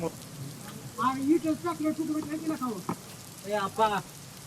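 Heavy rain in Karmala taluka, a downpour that flattened banana crops: a continuous hiss of falling rain on surfaces runs beneath someone speaking.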